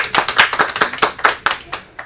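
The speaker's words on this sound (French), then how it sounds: "on peut l'applaudir alors" A small group claps for a girl who came first in a race, roughly a dozen distinct, fairly loud claps in a quick, slightly uneven rhythm, close to the listener.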